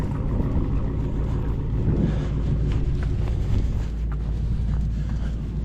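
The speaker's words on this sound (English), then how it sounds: "Good to see that dude has fired up his car, letting it warm up." A Dodge Charger Scat Pack idling as it warms up, a steady deep engine rumble heard outdoors at a moderate distance with some wind buffeting and small knocks over it.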